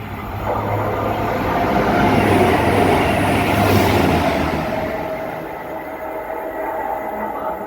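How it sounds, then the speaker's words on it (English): A train runs through platform 2 of a station without stopping: a steady rushing rumble with rail noise swells, peaks in the middle and slowly fades. No voices are heard. "The train now approaching platform 2 does not stop here."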